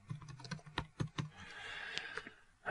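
Keystrokes on a computer keyboard during bookkeeping data entry, a quick run of crisp clicks followed by a brief pause and a few more taps, close and clear with no talk.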